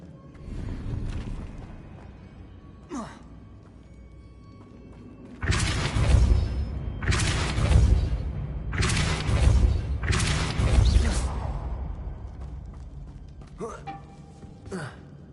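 The Depulso force spell being cast in Hogwarts Legacy, a series of loud, heavy booming magical blasts in close succession after a quieter stretch, with a voice speaking at times.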